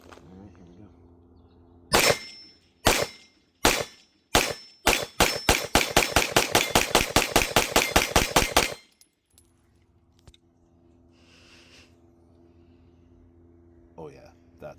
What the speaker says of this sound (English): We're going to fire the Gen 6 Glock with the Radian afterburner and Ramjet.